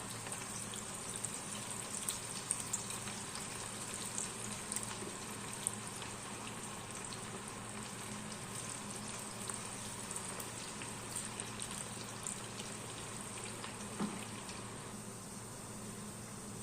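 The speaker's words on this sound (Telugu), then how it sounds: "ఆయిల్ వేడెక్కింది. ఇప్పుడు మనం ముందుగా కలిపి పెట్టుకున్న గోపీ వేసేసుకుందాం." Cauliflower gobi pieces frying in hot oil, a faint, steady bubbling crackle with tiny scattered pops, even and continuous throughout, no talking.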